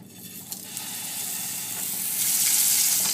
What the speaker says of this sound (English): that kind of initial sizzle you heard was me actually using my spatula to flatten it down